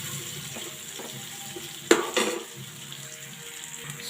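Tomatoes being stirred in a hot pan for a fish sarciado, with a steady close sizzle and one sharp utensil knock against the pan partway through.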